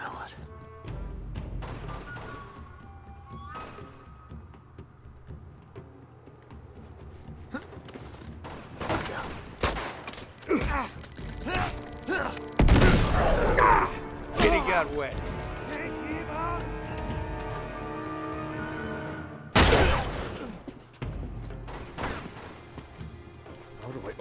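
Sniper gunfire in Uncharted 2 crashes through a busy game battle, with loud sharp reports amid ongoing shooting and impacts while someone talks over the action.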